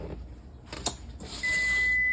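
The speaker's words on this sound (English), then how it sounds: "turn off our timer." A steady high electronic tone from a kitchen timer starts partway through and holds to the end, with faint handling noises of pizza dough being worked before it.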